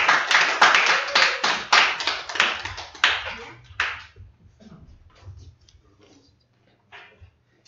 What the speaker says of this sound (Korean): 오늘 또 우리 수고한 찬양팀 우리 박수 한번 보낼까요?